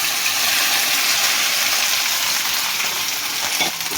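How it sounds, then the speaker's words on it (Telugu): Cut okra pieces fry in hot oil in an open pan, a dense, steady sizzle close by that continues throughout with no talk over it. "ఇప్పుడు కట్ చేసి పెట్టుకున్న బెండకాయ ముక్కల్ని దీంట్లో వేసుకోవాలి."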